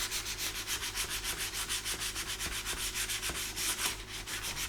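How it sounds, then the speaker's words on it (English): Primer on a car body being hand sanded in steady rhythmic back-and-forth strokes, a close, even rasping that repeats several times a second without pause. "And I'll sand this."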